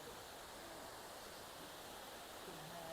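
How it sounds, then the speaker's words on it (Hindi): Water at Punchdhara waterfall near Nandamali, with reduced cold-season flow, gives a faint, steady, even rush of falling water, continuous throughout and with no talking. "ये देखिए सामने जो बह रहा है पानी"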